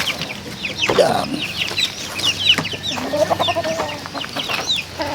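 Free-range hens on a game farm clucking repeatedly in close, overlapping calls, with a brief spoken word at one point.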